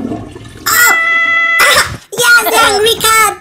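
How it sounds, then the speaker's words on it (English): An angry cat gives a few loud, close yowls in quick bursts, mixed with other brief household noises. "Angry cat!"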